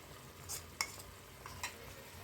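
Leftover marinade mixture being stirred into paneer tikka masala in a pan, a few soft scraping strokes with faint sizzling underneath, quiet and close.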